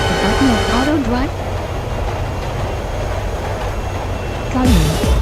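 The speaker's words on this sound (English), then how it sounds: "I press this button so the subway keep moving without stopping." Subway train rolling steadily along the rails with a continuous low rumble, joined by a high electronic-style tone at the start and end, while a voice talks over it.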